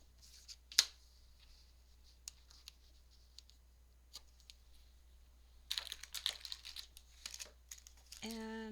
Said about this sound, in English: adhere some double-sided tape